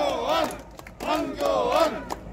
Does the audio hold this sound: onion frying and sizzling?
no